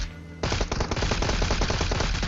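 MK rifle fire in the PUBG video game on the Erangal map bursts in after a brief quiet start, a loud, rapid stream of close shots that continues without a break.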